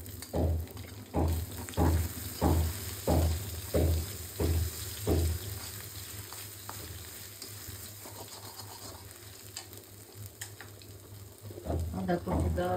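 Chopped ginger fries in a pan with onion and dried chilies, starting with a run of regular spatula strokes, then settling into a softer continuous sizzle before the stirring picks up again at the end. The sound is close and there is no talking.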